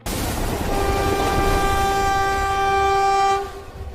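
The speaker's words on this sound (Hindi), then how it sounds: "हमारी ट्रेन तो ऑटोमेटिक चल रही है" Passenger train horn blaring in a long, steady, loud blast over running rumble, held for about three seconds before cutting off, with no talk.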